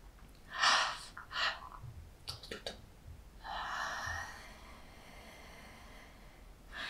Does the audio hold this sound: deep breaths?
yes